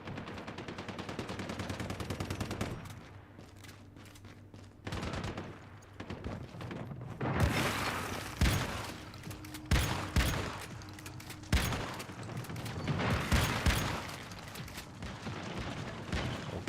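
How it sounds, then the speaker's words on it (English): Video game shotgun blasts, a dense run of booming shots with scattered explosive bursts against a steady low game hum, loud and close throughout. "Oh, the shotgun does so much damage."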